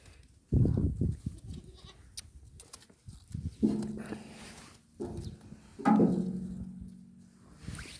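Baby goats bleat while playing, several short close calls at irregular intervals over a quiet outdoor background, with light rustling between them and no talking.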